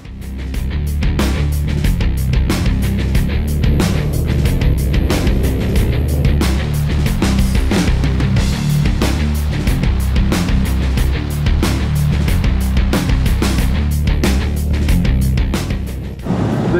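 A 2012 Chrysler 300 SRT8 engine rumbles loudly and continuously from inside the cabin while driving, a deep steady drone with road noise and periodic clicks throughout.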